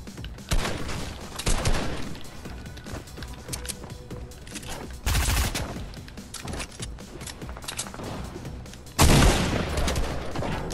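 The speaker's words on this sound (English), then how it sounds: "I just shot him." Dense bursts of rapid gunfire from a video game shooter, loud and close, in several volleys with brief lulls between them and heavy booming hits at intervals.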